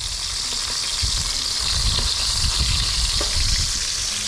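Hot cooking oil sizzles and spatters in a pan during frying, a steady loud hiss with irregular popping bursts close by.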